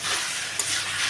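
Boiled potatoes being stirred into a spice masala frying in oil, a steady close sizzle with soft scraping and one brief clink near the middle.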